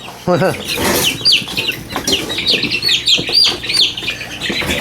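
A young rooster chick squawks and cheeps repeatedly while being held, shrill close calls in quick uneven bursts, with people talking over them.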